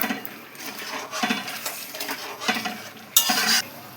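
A spoon stirs a thick stuffing paste into a bubbling gravy for potol dolma, giving soft repeated scrapes and clinks against the pot over a low simmering sizzle, with no talk.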